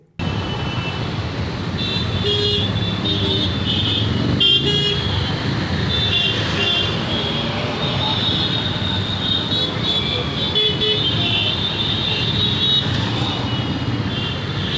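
A vehicle approaches along a street in Indore with a continuous traffic roar and repeated horn toots, loud and close throughout.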